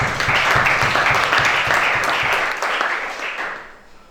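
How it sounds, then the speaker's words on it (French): A congregation at a church prayer and deliverance service claps together in a fast rhythmic beat, loud and sustained, then fades out near the end. "Acclamez ça."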